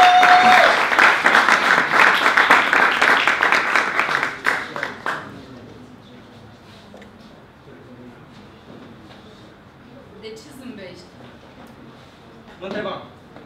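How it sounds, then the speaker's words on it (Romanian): Audience applause for performers at a pub talk event, loud dense clapping for about five seconds that fades out, followed by quieter room ambience with people talking. "Și să-i aplaudăm pe Andy"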